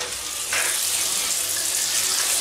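Tap water running while a blind is washed with a brush in a bathroom, a steady close hiss that swells louder partway through and continues alone without talk.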